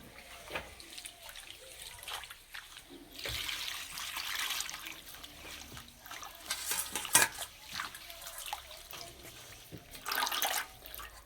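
Water splashes and pours as neem leaves are rinsed by hand in a bowl, soft irregular sloshing and trickling bursts close by, fairly quiet with occasional louder splashes.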